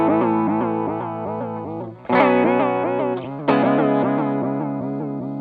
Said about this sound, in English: we can mess with the warp to even get it even more modulated